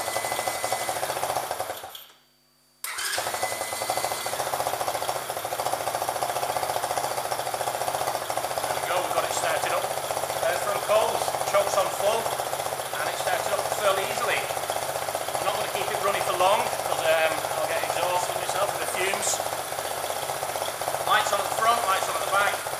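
A Hawkmoto Condor 125cc quad's engine fires up after a short pause and settles into a steady, buzzing idle that runs on loudly and close for about twenty seconds.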